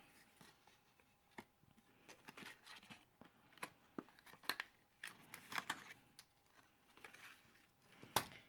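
Scissors snip through paper hole reinforcers in a quiet room, giving a series of soft, irregular cutting clicks and crisp snips, several in quick bursts, without talking.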